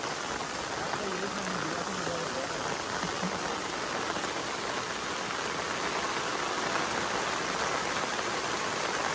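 Heavy monsoon rain pours steadily beside a dam in the Konkan, a dense, unbroken wash of loud hiss filling the whole stretch with no pauses.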